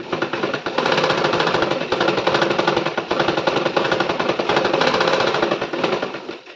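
A sewing machine stitches fabric for small underwear in a fast, continuous mechanical rattle, close and loud, with brief pauses at the start and end.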